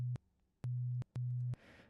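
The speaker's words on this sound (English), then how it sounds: "now the kick drum sounds like this." Synthesized kick drum made from a low tone, three short flat electronic thumps with clicky edges and even gaps, quiet and alone, ending in a soft noisy burst.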